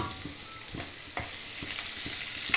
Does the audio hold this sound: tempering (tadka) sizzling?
yes